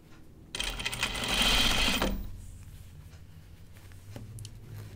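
Sewing machine stitching an Archer button-up shirt, a dense mechanical whir that starts abruptly, runs steadily for about a second and a half, then stops, leaving quiet room noise.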